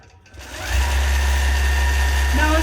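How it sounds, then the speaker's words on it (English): Sewing machine running steadily as it stitches around a mermaid tail pattern, a loud, continuous motor hum starting after a brief quiet moment and holding evenly throughout. "Now it's going to stitch all the way around."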